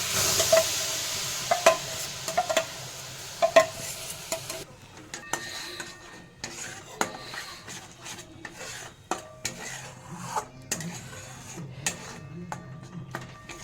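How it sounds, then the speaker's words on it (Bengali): Carrot paste cooking in a wok, heard as quiet scraping and clinking of a spatula against the pan in irregular strokes over a low, faint sizzle, with no talk. "গাজরের পেস্টটা যে তৈরি করেছি সেটা আমি কড়াইতে দিয়ে দিচ্ছি"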